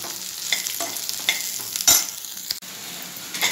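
Bitter gourd slices fry in hot oil in a pan, a steady close sizzle with occasional stirring scrapes and light clicks, no voices.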